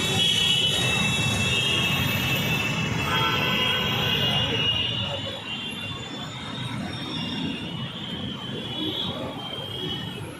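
A crowded Ameerpet metro station sounds loud at first: a train's rumble and squealing wheels with a high tonal whine, which then eases into a steadier hum of station ambience. No voices stand out.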